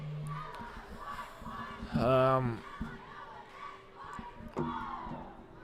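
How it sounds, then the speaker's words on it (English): A high school cheer team yells and screams from the sidelines at a football game between SouthLake Christian Academy and Hickory Grove Christian Academy, with a loud chanted burst midway and crowd noise around it. "Hickory Grove's cheer team likes to yell and scream over there"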